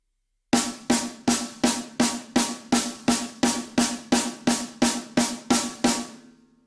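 Sticks play a triple paradiddle rudiment on a snare drum, sixteen evenly spaced crisp strokes at a steady moderate tempo, each ringing briefly, close and alone.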